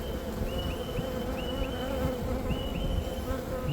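Honeybees buzzing during a beehive inspection, a dense continuous close hum of many insects with individual bees droning past now and then, with no talk over it.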